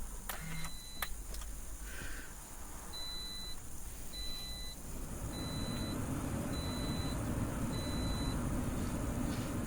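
A 2013-2018 Toyota RAV4 with push-to-start ignition switching on: a couple of clicks, then a series of evenly spaced short electronic beeps over a rising steady engine or fan hum, close and moderately quiet.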